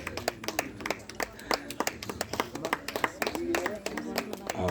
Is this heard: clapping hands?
yes